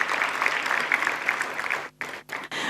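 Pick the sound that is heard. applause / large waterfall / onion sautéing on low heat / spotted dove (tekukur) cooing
applause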